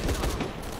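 Enemy gunfire in Shadow of the Tomb Raider comes as a brief, dense burst of rapid shots, loud and close, fading into a rumbling tail within a second.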